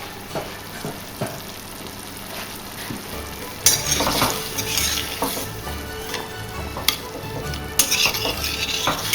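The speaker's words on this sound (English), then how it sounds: "We let the wine simmer." Red wine sauce simmering in a pan gives a continuous close sizzle and bubble, with a spoon scraping and stirring in repeated strokes and occasional clinks against the pan.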